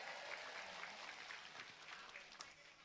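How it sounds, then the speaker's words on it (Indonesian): Audience at a religious gathering clapping for the village head, a faint, even patter of applause with some voices mixed in. "tepuk tangan kagem Pak Kades."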